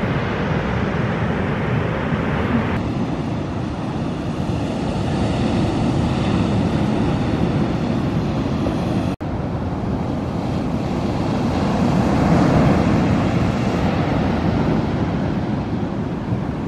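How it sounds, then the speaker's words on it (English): Ocean surf rolling onto Zuma Beach in Malibu, Los Angeles, a steady broadband wash of breaking waves with wind buffeting the microphone, continuous and fairly loud with swells rising and easing, no voices. "watching the waves,"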